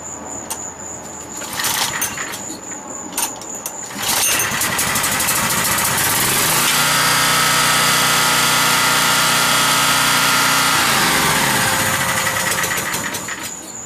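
A portable generator running on LP or natural gas starts with a few cranking bursts, catches around four seconds in and settles into a loud, steady, close engine drone with a high mechanical whine, easing slightly near the end.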